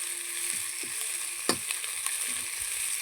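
Onions frying in a pan for a yogurt tadka, a steady broadband sizzle with soft stirring scrapes and one sharper clatter, close and continuous without talk.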